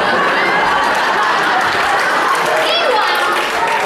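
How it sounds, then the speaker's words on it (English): An audience at a spontaneous melodrama performance slaps their legs in a dense, continuous patter, fairly loud, while a voice speaks over it near the end. "the audience was still clapping their legs"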